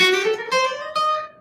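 Guitar plays a diminished scale, three clearly picked notes stepping upward one after another, each ringing bright and close with sustained harmonics.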